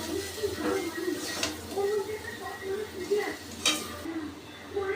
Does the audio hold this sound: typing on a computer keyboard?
no